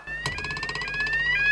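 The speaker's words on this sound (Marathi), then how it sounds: "पोलिसांचं सायरन आहे तो." A police siren wails loudly and close, a steady electronic tone sliding gradually upward, sounding alone after a brief clunk at the start.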